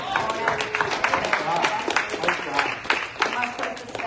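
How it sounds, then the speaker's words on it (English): A church congregation claps hands in praise during a Sunday service, a dense, steady patter of many hands filling the room with a brief murmur of voices underneath. "Give God a hand clap of praise."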